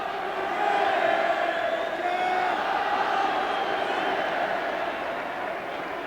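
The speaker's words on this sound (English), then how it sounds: "the Southampton supporters applauding their team" Southampton football supporters fill a stadium with a broad, steady crowd roar and applause for their team during a 1993/94 match, a continuous wash of sound heard from a distance.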